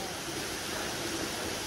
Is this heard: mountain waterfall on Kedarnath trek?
yes